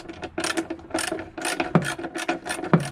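Ratchet wrench tightening bolts on a Toyota Supra during a battery relocation job, a close run of rapid clicking bursts in short strokes with brief pauses between them.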